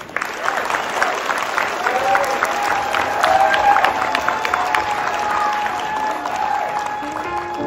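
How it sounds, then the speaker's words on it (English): Loud, sustained applause with some cheering from an audience at a school district evening honoring students of the month, a dense wash of clapping filling the room throughout. "Let's give our students one last round of applause."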